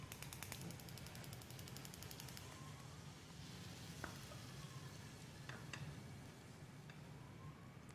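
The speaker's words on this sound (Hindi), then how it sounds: "इसके ऊपर लगाएंगे अब हम तड़का।" A steady, faint sizzle of tempering spices frying in hot oil for topping mash dal, with light crackles and a few small pops.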